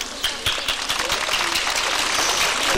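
Students and parents at a school's last-bell ceremony applaud, a loud, fairly steady clapping with distinct sharp claps, captured on old VHS tape.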